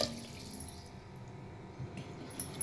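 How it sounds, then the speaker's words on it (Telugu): Water poured into a cooking pot of rice for a soybean and vegetable biryani, three cups of water to two cups of rice, giving a soft, low, steady splashing pour with small drips near the end. "వాటర్ పోసేసుకుందాము."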